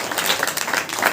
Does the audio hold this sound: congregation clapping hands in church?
yes